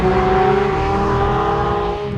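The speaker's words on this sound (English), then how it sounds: "Just listen to that bleeding engine as well." A 2023 sports car engine revving hard, its loud, sustained roar climbing steadily in pitch up close before easing off at the end.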